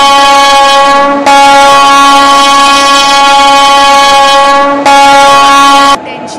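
The Deccan Odyssey train in a railway video game sounds a loud, sustained horn in long steady blasts with short breaks between them, close and dominant.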